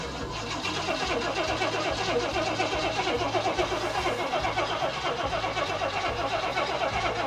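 An old project car's engine cranks repeatedly in a fast, even rhythmic chug, loud and close, as the starter turns it over without catching.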